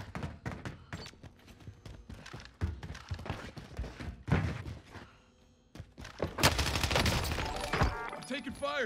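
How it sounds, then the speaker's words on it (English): Rapid bursts of gunfire from a Warzone match on Rebirth Island, an LC10 submachine gun among them, crack again and again across the whole stretch. Voices talk underneath, and a heavier, denser volley comes near the end. "I'm taking fire here"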